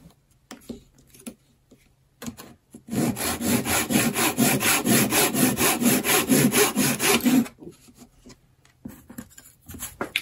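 Hand sawing of wood for parlour guitar braces: a steady run of rhythmic back-and-forth saw strokes, close and loud for several seconds, with quiet workshop handling before and after.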